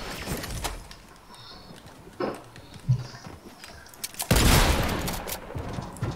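Gunfire in an online multiplayer video game, with scattered sharp shots followed by a dense, loud burst of sustained firing near the end, with faint speech-like sounds in places.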